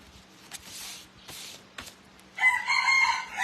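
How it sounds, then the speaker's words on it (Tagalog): A neighbor's rooster crows loudly and close at the end, after a stretch of faint clucks and soft footsteps-like thumps. "Hala, nagkaroon kami ng manok."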